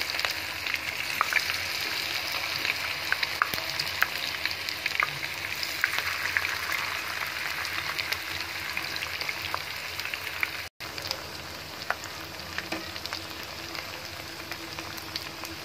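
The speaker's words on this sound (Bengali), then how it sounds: "সময় নিয়ে ভাজতে হবে, এটা ক্রিসপি একটা ভাব আসবে এটার ভিতরে।" Water lily flower pakoras deep-frying until crisp, a dense, steady crackling sizzle of hot oil with small pops, close and continuous, with one brief break and no talking.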